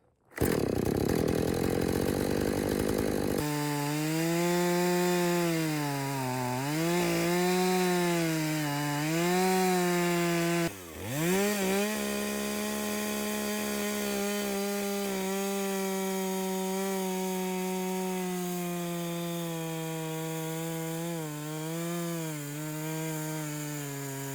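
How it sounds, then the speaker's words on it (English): A chainsaw makes a plunge cut into a tree stump being carved into a chair. The engine roars loudly and continuously, close by, its pitch sagging and rising as the bar bites into the wood. "What I'm doing here, a plunge cut. I cut it down here and I'll cut the bottom, and then I'll cut the back."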